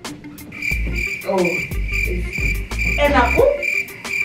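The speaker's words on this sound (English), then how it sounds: "I just inserted the crickets right here." Crickets chirp steadily as an inserted sound effect, a continuous high trill running under a few short spoken exclamations and a rising whoop.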